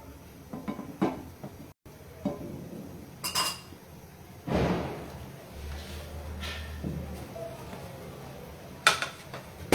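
Utensils clinking and scraping in a pan as pasta with butter, cheese and spices is stirred: scattered metallic clinks, taps and knocks at uneven intervals, fairly close, with a low hum in the background.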